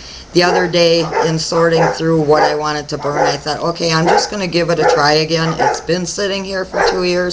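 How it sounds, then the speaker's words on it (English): Dogs bark in the background during Fourth of July week celebrations, half-buried under a woman's steady, close talking that runs through the whole stretch. "I'm sorry about the dogs barking,"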